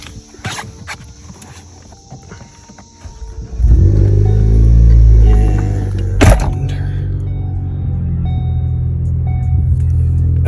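A Ford Focus ST engine cranks and catches after a few quiet seconds. It surges loudly, then a brief sharp knock follows, and it settles into a steady, deep idle that runs close by to the end.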